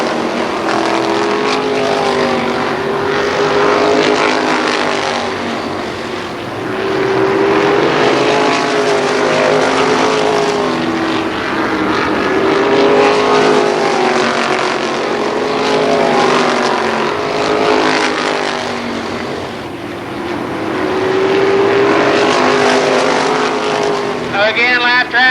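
Winged sprint cars race past on the front stretch of a dirt speedway, engines roaring in waves as the pack sweeps by and returns, loud and continuous under a track announcer's voice.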